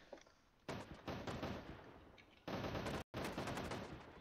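Rapid automatic gunfire from a first-person shooter prototype built in Unreal Engine, loud bursts of rattling shots broken by a short silent gap near the end as the weapon reloads, with no talk over it.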